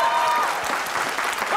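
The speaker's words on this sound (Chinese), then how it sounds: "对，好就拍手啊。" A studio audience breaks into brief, dense applause, a close burst of clapping hands lasting under two seconds.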